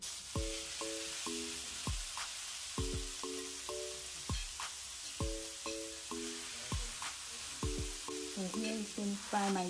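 Beef pieces stir-frying in medium hot oil, with a steady close sizzle and regular clanks of a spatula against the pan, alongside a repeating electronic tone pattern in the background.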